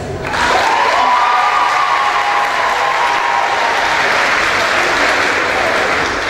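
An audience at the Miss Oise 2022 beauty pageant gives loud, sustained applause that rises quickly and fills the hall evenly, with a faint tonal whistle-like note drifting over the clapping.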